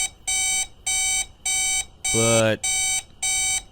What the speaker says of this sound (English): I hear an alarm beeping